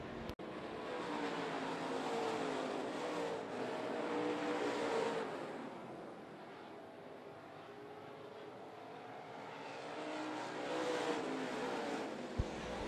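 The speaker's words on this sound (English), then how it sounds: "The race leader, Chris Wilson, starting to burn out on him as they work off turn 2 down the back straightaway." Super late model race cars roar around a speedway track at Smoky Mountain Speedway during a crate feature. The engine drone is distant, continuous and rises and falls as the cars pass, with no talking.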